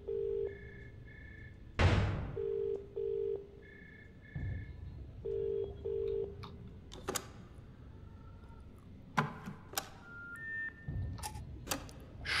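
Telephones ring in the horror game Monstrum, with short repeated double-tone ring bursts in a steady rhythm, broken by a few loud thuds and clicks, and later a brief higher electronic tone.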